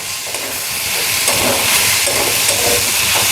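Fried fish being stirred in a pan with ground roasted spice for Bengali macher sukto, producing a loud, continuous hissing sizzle that swells slightly and carries no speech.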